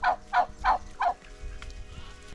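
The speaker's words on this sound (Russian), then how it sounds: "Еще у них здесь есть индюки. Смотрите, какой необычный белый индюк разгуливает здесь." Four loud, evenly spaced calls from a white turkey ring out close by in Mexico, each a short warbling burst, followed by quiet farmyard background.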